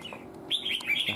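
A red-whiskered bulbul, a trapped fighting bird, gives a short, bright chirping call. The call is close but fairly quiet and lasts about a second.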